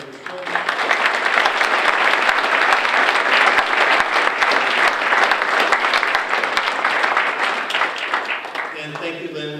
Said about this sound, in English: Please join me in a round of applause and appreciation of these campus donors